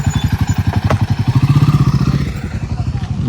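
A new Royal Enfield-style Gorilla motorcycle arrives close by, its engine thumping in a loud, steady low pulse that rises slightly as it approaches, then settles to idle.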